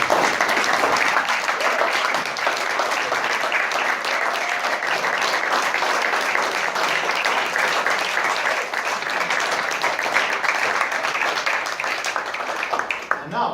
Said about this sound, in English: Please, students, stand for one last round of applause.